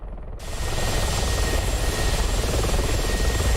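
A steady, loud rotor and engine drone from a helicopter in a flight video game starts abruptly after a brief pause and holds constant to the end, with no talking over it.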